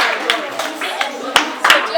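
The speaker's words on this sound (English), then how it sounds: "Let's welcome her with a clap." Schoolchildren in a classroom clap to welcome a guest, a few scattered, uneven claps that pop out over ongoing chatter and voices nearby.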